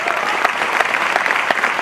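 Loud, dense applause from a large audience at an Amway business event, vigorous continuous clapping filling the space up close without pause.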